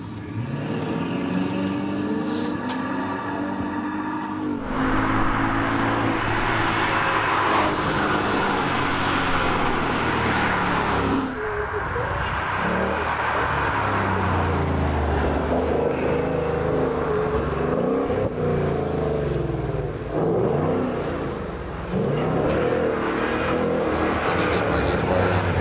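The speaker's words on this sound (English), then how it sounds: "As the Mustang now is making its way to the top" A Ford Mustang, a rather new model, climbs a hillclimb course at the Legend of the Lakes event, its engine roaring loud and steady throughout, with a shift in tone partway through and a commentator talking over it.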